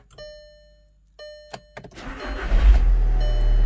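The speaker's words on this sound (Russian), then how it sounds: "Вот так зарычал мотор." A 2012 VW Jetta 2.0 TDI diesel, hail-damaged, goes through ignition chimes and dash beeps, then the starter cranks briefly and the engine catches, settling into a loud, steady close-up idle.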